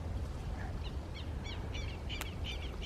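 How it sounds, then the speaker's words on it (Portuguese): Several birds call in short repeated bursts over a steady low outdoor rumble on a sandy spot with many birds around, with one sharp brief note standing out near the end. "tem muito pássaro aqui, é bizarro a quantidade"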